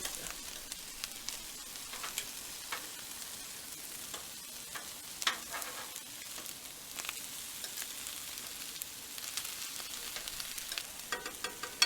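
Chicken wings sizzle and fry on a Blackstone griddle, a steady crackling hiss with scattered pops and occasional scrapes as they are turned, heard close and with no talking.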